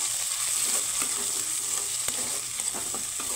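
Chopped onion, added with whole cumin, frying in a pan: a steady close sizzle and hiss with faint scraping of stirring mixed in, moderately loud with no voices.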